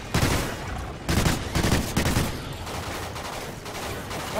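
Rapid video game gunfire in NightFall, dense bursts of automatic shots hammering loudly and continuously with brief surges, no talking over it.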